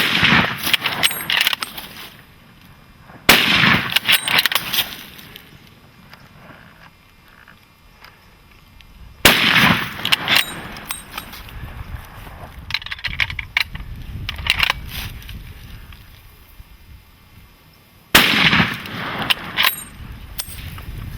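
Rifle shots ring out while hunting Cape buffalo in Zimbabwe: three sharp, loud cracks spaced several seconds apart, each trailing into a longer decaying echo, with rustling and handling noise in between.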